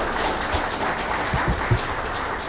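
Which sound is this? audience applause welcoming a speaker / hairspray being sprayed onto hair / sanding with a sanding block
audience applause welcoming a speaker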